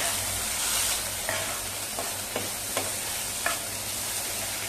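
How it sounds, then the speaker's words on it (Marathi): Grated potato is stirred into onions frying over medium heat, a steady sizzle under a few soft scraping taps of the spoon against the pan, close by and with no talk. "आणि त्याच्यामध्ये खिसलेला बटाटा घालूया. आणि चांगले एकजीव करून घेऊया."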